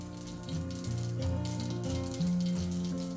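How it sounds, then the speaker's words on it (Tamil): Mustard seeds, urad dal and a little fenugreek frying in two spoons of oil in a pan for a sambar tempering, a steady close sizzle and crackle with no talk. "இப்போ ஒரு பேனில் 2 ஸ்பூன் எண்ணெய் விட்டு கொஞ்சம் கடுகு, உளுத்தம்பருப்பு, கொஞ்சமாக வெந்தயம் இதை போட்டு தாளிச்சுக்கலாம்"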